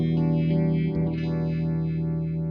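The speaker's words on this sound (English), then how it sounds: "This is a really dark sort of phaser." Sustained guitar chord through a Red Witch Moonphaser pedal on its dark phaser setting, with a slow, subtle, regular sweep rolling over a steady, moderately loud tone.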